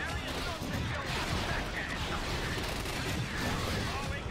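Gunfire aimed at B2 battle droids in a Star Wars game mod comes as dense, constant volleys of blaster and weapon fire, with heavy impacts and mechanical clatter, while voices talk through the din.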